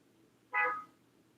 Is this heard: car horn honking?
yes